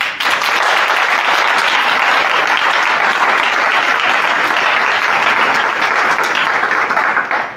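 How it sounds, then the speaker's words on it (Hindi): An audience claps in loud, dense, sustained applause that runs steadily for several seconds without any voices. "एमती ताली मारे मते बहुत राग लगे"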